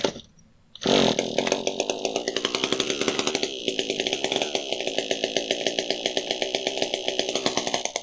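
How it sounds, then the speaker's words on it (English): A flooded Husqvarna 122HD45 hedge trimmer engine catches after a cord pull and runs loud and close, a raspy two-stroke buzz with a rapid, even pulsing beat that holds steady for several seconds. "We're going to pull the cord and try and clear this flooded condition."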